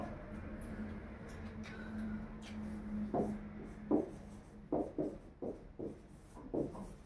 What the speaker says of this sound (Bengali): আর একটা আমি সেন্টেন্স লিখছি, দেখো